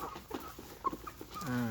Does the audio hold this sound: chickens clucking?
yes